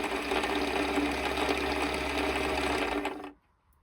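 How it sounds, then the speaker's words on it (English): A Domestic model 1505 sewing machine runs fast and steadily with a loud, continuous mechanical whir, then stops abruptly, leaving near silence. "Now this seems to be sewing pretty fast, which is actually good, and I'm barely touching the foot pedal."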